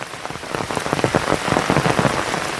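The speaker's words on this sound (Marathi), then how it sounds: "बघू शकता सध्या पाऊस आहे" Rain falls steadily on the Konkan countryside near a small river, a dense patter of drops on leaves and ground that stays close and even throughout.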